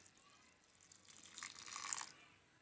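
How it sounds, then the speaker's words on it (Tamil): Warm water is poured into a bowl of broken vermicelli as part of making a semiya jamun sweet, giving a soft splashing trickle that builds toward the end and then stops, faint and close, with no talk. "இப்போ வெது வெதுப்பாக நம்ம சுட வச்ச தண்ணி இதில் சேர்த்துக்கலாம்"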